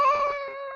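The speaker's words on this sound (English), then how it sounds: "There's my cat." A cat gives a single drawn-out meow, close and clear, with a strong tonal whine that slowly fades.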